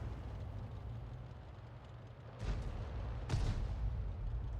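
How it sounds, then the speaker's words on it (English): Two heavy booms from M44 self-propelled artillery firing shells in a tank video game, spaced about a second apart over a steady engine rumble, each a short, loud blast with no talk. "He's trying to fire as soon as he's loaded to maximize the number of shells he can put out in a game."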